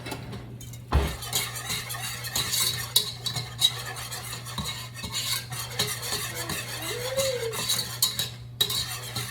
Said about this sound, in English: I'm gonna take a whisk to it